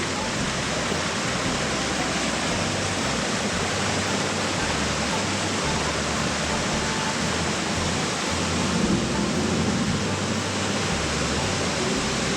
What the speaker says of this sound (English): That's a pretty waterfall right there.